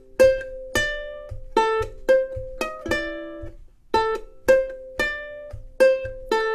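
A ukulele plays a short, punchy riff of repeated chords, then pauses and repeats the phrase.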